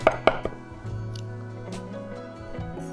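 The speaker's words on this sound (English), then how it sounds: "So we have the garlic. We'll just roughly chop it up." Garlic roughly chopped with a knife on a board, with a few sharp knocks at the start followed by a lighter tapping.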